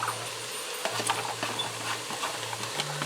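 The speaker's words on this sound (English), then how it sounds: "I'm going to stir that around in there." Diced onion stirred into browned, drained ground beef for sloppy joes in a Ninja Speedi cooker, giving a soft, steady scraping and sizzling texture with a low hum underneath and no talking.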